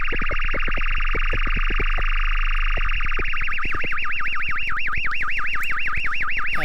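Simulated frequency-modulated signal: a loud synthetic electronic tone that buzzes in rapid pulses, then warbles up and down in a steady wobbling sweep, continuous and close.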